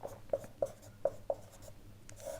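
Pen writing an answer on paper, a faint series of short scratchy strokes in a quick rhythm, close up and quiet.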